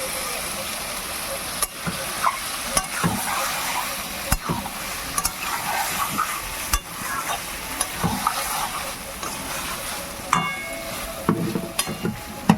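Marinated mutton sautéed in a pan before pressure cooking sizzles steadily as a spoon scrapes and turns it in repeated strokes, loud and close with no voices.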